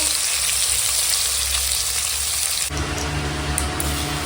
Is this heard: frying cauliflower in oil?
yes